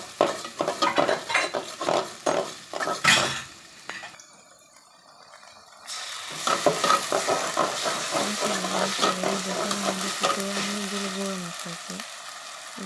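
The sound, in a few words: chopped onion frying in mustard oil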